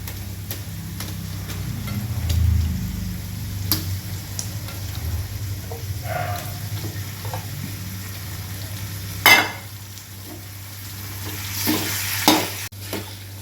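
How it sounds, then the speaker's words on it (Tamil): Chicken sizzles steadily in a hot pan while frying for a chicken gravy, with occasional scrapes and stirring clatters from a utensil close by. "இப்போ நம்ம சிக்கனை சேர்த்துட்டோம் இது ஒரு ரெண்டு நிமிஷம் அப்படியே ஃப்ரை பண்ணிக்கணும்"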